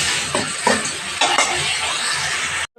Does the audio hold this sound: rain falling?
no